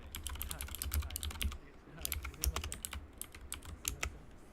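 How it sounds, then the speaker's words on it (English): Fast typing on a computer keyboard during a livestream, a close run of crisp key clicks in bursts with brief pauses between them. "Sorry if the typing was a little bit loud"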